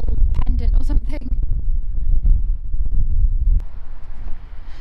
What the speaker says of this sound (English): And if you can hear me, it's so windy.